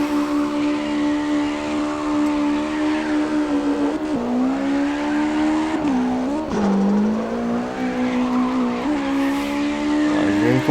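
A car drifting in CarX Drift Racing, a sustained tire squeal and skid layered over a straining engine whine that dips and swells as the slide changes, loud and continuous with no talking.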